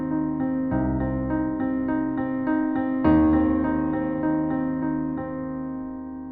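Piano repeats the same note in two octaves at once, a steady pulse of struck keys, then a louder chord that rings out and slowly fades.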